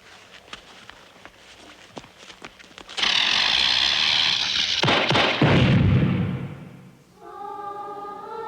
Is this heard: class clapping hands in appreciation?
no